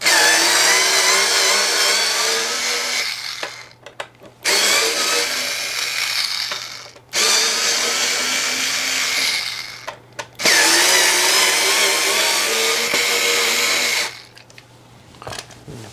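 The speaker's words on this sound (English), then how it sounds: "I'm gonna go ahead and remove the neck quickly" Power drill unscrewing the bolts on the bolted-on neck of an Eastwood Airline H78 metallic blue guitar, four loud whirring bursts of a few seconds each separated by short pauses, close up with no talking.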